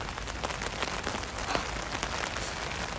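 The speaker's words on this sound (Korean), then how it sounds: "지금 빗소리 들리세요?" Steady rain patters on a tent nearby at a campground, a dense, even hiss of drops with no voices over it.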